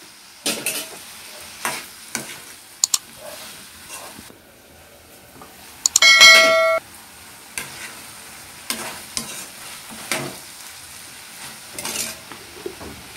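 Tomato pieces and turmeric frying in an okra and raw prawn curry, with a spoon scraping and clacking against the pan in irregular strokes over a low sizzle, plus a sharp metallic rattle partway through.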